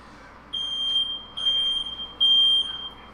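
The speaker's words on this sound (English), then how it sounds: "We have a fire alarm going off." A fire alarm sounds in three long, piercing electronic tones of about a second each, separated by short gaps, loud and close against a quiet room.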